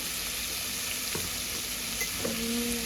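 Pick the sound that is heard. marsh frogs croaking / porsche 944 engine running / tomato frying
tomato frying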